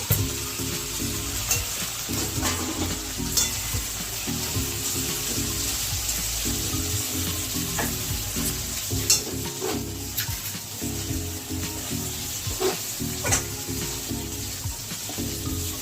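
Potato and prawn fry in spices for mocha chingri ghonto, a steady close sizzle broken by regular scraping stirs of a spoon against the pan.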